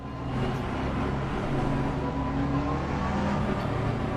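A steady, loud Jaguar race car engine in Assetto Corsa Competizione drones continuously, a sustained mechanical roar without pauses or obvious gear changes.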